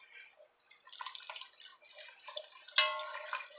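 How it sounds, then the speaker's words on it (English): Liquid being whisked into a roux for New England fish chowder, heard as quiet, irregular wet sloshing and light clinking of the whisk against the pot, fairly close but low in level. "we want to start whisking up and mixing some of this liquid with this roux"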